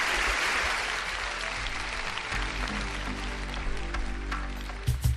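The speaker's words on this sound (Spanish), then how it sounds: "Os pido un aplauso mientras llega la siguiente invitada." Studio audience applause, a dense, steady clapping that fills the room and slowly eases off, fairly close, with no talk over it.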